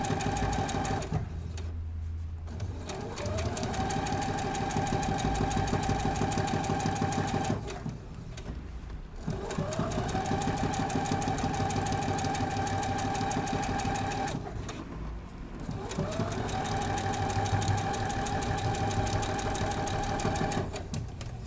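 A sewing machine stitches a Christmas panel fabric in three long, even runs of close, buzzing motor whir. Each run starts up after a brief pause for adjusting the cloth.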